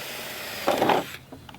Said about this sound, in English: I'm going to just drill